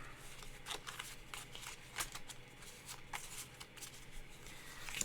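A Wild Hunter card deck shuffled close by, several quick riffling bursts in a row, soft and crisp in a quiet room.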